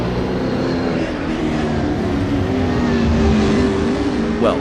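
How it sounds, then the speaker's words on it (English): Roaring V8 Supercar engines during club racing at Bathurst in Assetto Corsa, a loud continuous drone with shifting pitch as cars accelerate, several engines layered together. "The roaring engines are echoing Sunoiler's battle cry."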